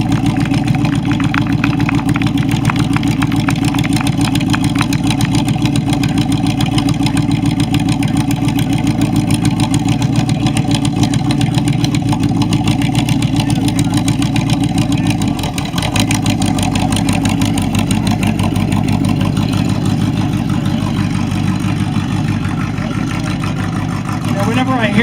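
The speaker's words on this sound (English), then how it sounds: "Whenever I hear all that big V8 American horsepower" A rare car with a Max Wedge V8 runs at a concours d'elegance awards presentation, its big engine giving a loud, steady rumble that holds for the whole stretch and dips briefly near the middle.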